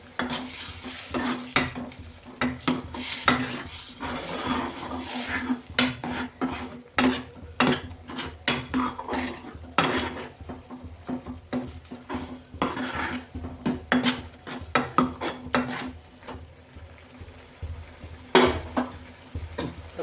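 Chili powder being stirred into pea chaat in a pan: a metal spoon clatters and scrapes rapidly and irregularly against the pan for a long stretch, close and busy, over soft frying sizzle.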